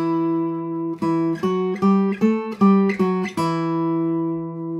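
A dark folk guitar plays a harmonic minor octave sequence, moving back down from A in 2nd position: about eight plucked octave pairs, each ringing clearly before the next, alone with no talk.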